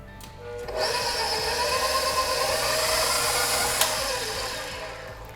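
An electric mixer beats vanilla extract and egg into creamed butter for gingerbread cookie dough, a steady high motor whine starting abruptly and running evenly at close range.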